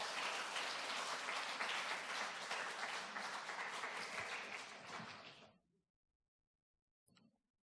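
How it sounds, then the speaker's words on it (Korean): A church congregation at a Sunday afternoon worship service claps together in a sustained, dense round of applause that fades out after about five seconds, followed by silence and a faint brief noise. "우리 크게 박수로 격려하는 박수 우리 같이 하도록 하겠습니다"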